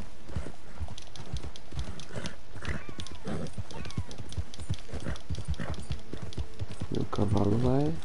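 Horse hoofbeats clip-clop steadily as a rider gallops in Red Dead Redemption 2, with a voice talking over them and a horse whinnying near the end.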